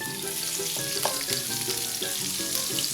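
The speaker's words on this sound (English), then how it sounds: "Add a little oil to the pan and chuck in the onions." Onions frying in a little oil in a pan for a Brazilian moqueca fish stew, a steady close sizzle with small crackles and stirring clatter throughout, no voices.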